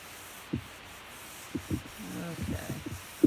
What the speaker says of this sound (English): I'm going to rub it around one side. And I'm going to rub it around the other side.